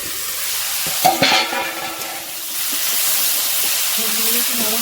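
Vegetables fry in a covered pan with a steady hiss and sizzle, broken near the start by a brief clatter of the lid or spoon.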